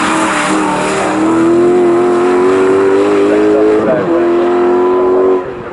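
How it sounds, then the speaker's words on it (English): Ferrari 458 GT race car pulls onto the circuit at Snetterton with a loud, sustained engine drone. A brief gearshift dip comes near the end, and commentary talk runs underneath. "as the 458 Ferrari heads back out onto the circuit"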